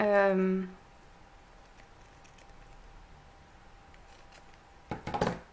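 Scissors snipping paper for a handmade thank-you card, a short close cluster of crisp cuts near the end after a brief musical note and quiet room tone.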